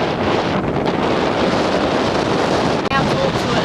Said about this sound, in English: And it was incredibly windy.